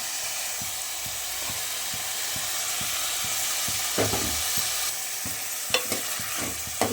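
Cut chicken pieces fry in oil with freshly ground masala, a constant sizzle under regular scraping and tapping of a spoon stirring the pan, with louder clacks near the end.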